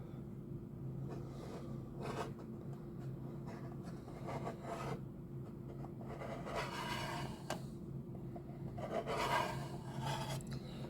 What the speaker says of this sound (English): Just getting the blank side of my applicator and just scraping up really the inside of that line that I don't want the putty in.